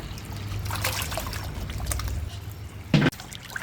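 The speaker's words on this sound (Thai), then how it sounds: "อันนี้ก็นำไปล้างน้ำสะอาดต่อเลยครับ" Pork intestines being rinsed in clean water, with soft trickling and sloshing throughout and a brief louder splash near the end, no talk.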